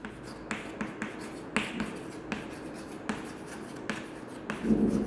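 A maths question is written out by hand, with pen strokes and taps on paper at an uneven, steady pace, close up and fairly quiet, plus a brief rustle near the end.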